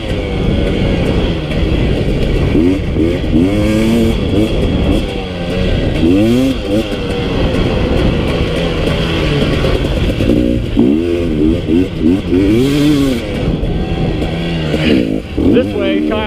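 A 2018 KTM 250 XC-W TPI fuel-injected two-stroke motorcycle engine revs loudly and continuously, its pitch rising and falling repeatedly throughout.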